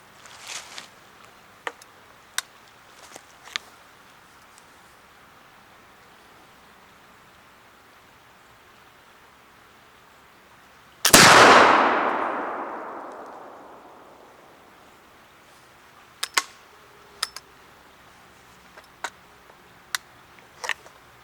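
A swivel breech gun fires a single loud blast at a target range, its boom decaying over a couple of seconds amid otherwise quiet surroundings with a few scattered clicks.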